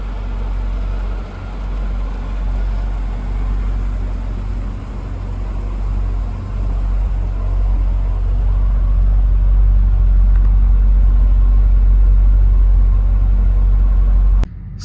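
A 2002 Mercedes S55 AMG runs with a deep, steady low rumble, heard close and loud from inside or beside the car for most of the clip before cutting off abruptly near the end.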